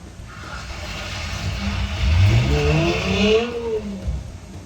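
A Dodge Hellcat drives down a road with its engine revving and climbing in pitch, building to a loud surge midway with tire noise mixed in, then easing off.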